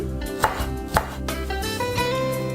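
Fresh green onions chopped with a knife for a potato salad: a few sharp, close chops at uneven intervals over a steady kitchen background, with no talking.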